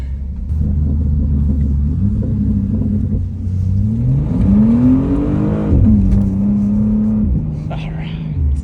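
A car drifting in the video game Assetto Corsa, its engine revving up and down in a continuous droning rise and fall, with muffled voices talking over it.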